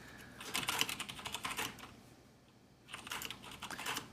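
Rapid clacking keystrokes on a budget mechanical keyboard with black switches come in two bursts separated by a short pause, close and fairly quiet.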